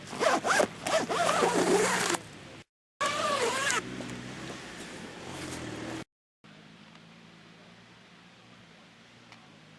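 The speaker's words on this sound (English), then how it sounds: "zip it up either side, and then that's secure." Front door of a Slumit Gobi 3 quick-pitch tent being zipped shut, several quick close zipper runs in bursts with brief pauses, then a quieter stretch of faint background hiss.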